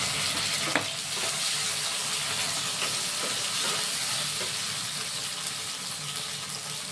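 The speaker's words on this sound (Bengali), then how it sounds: "মশলাটা আমি কষাবো" Spice paste with tomato sautés in a pan, giving a continuous soft, hissing sizzle with faint crackles, steady and fairly quiet throughout.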